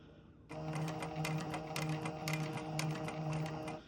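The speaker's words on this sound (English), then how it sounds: "we're going to continue sewing to the joint point" A sewing machine runs steadily, stitching fabric toward a corner joint, its rapid mechanical whir with rhythmic clicks starting after a brief quiet moment and continuing close and clear without talk.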